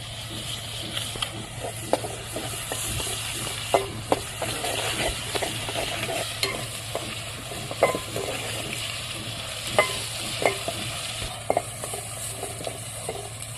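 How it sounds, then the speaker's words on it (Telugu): Ginger paste frying in oil in a pan over a wood-fired stove while cooking a dry fish curry: a continuous crackling sizzle with frequent sharp pops and stirring scrapes, close and fairly steady throughout. "అల్లం పేస్ట్ కూడా ఆయిల్లో మంచిగా మగ్గాలండి పచ్చివాసన పోయే వరకు"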